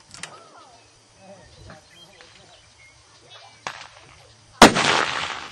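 A rifle shot at a long-range 500 m handgun silhouette target cracks out sharply and loudly near the end, followed by a brief echoing tail, after faint outdoor voices and quiet background noise.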